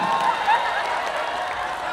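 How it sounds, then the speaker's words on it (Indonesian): Crowd applause during a humorous Islamic sermon, a steady moderate clapping with murmuring voices from a large audience, fairly even throughout. "Kenapa tepuk tangan?"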